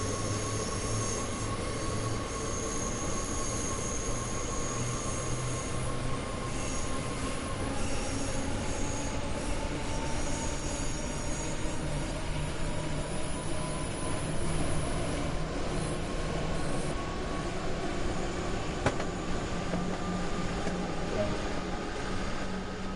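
Simulated train in Train Sim World 2020 on the Rhein-Ruhr Osten route, moving under power with a steady droning rumble of wheels on track and a rising motor whine, continuous and even throughout with no talking.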